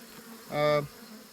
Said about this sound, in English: These are robber bees. They're attacking those robber bees.